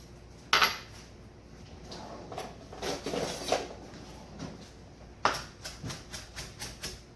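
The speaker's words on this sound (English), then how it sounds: "Now I'm going to chop some of my parsley up, my basil." Knife chopping parsley and basil on a board in a kitchen, a run of fairly quiet, irregular taps with a couple of sharper knocks, then a quicker rhythmic series of chops near the end.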